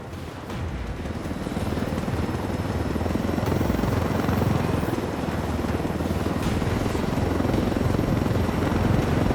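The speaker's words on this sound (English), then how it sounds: "You know, I told Griffin I could figure out how to fly this thing. Qualify for planes. But not choppers." A helicopter in the Ghost Recon Wildlands video game flies continuously with a loud, steady rotor chop and broadband engine roar, with no voices over it.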